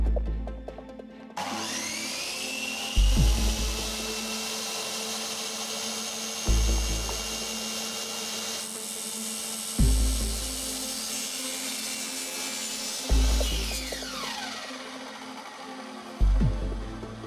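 A power tool repeatedly cuts pieces for homemade tank tracks in a jig, a high motor whine punctuated by about five sharp cutting bursts spaced a few seconds apart, close and loud with no talk.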